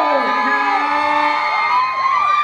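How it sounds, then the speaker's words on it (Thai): A crowd at a bank expo event in a shopping mall in Chonburi whoops and screams loudly, with high cheering voices sweeping up and down in one continuous burst of excitement. "ทุกคนปรบมือและกรี๊ดดังๆให้คุณแกงส"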